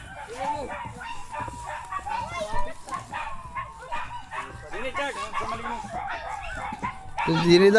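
Dogs bark and yip in quick, excited bursts, with whimpering mixed in, while people talk over them throughout.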